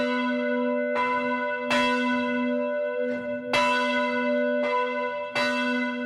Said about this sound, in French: lancer Marie, la plus petite des cloches. 335 kilos.